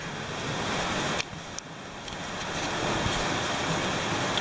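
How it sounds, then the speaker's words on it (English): Heavy rain pours down outside a converted school bus, a dense steady hiss of water filling the scene with a few sharper splashes and gusts, no voices. "pouring rain out there."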